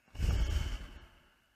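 A single slow exhalation from a breathing exercise for lowering blood pressure is a soft, breathy rush that swells quickly and then fades out gradually over about a second, close and alone.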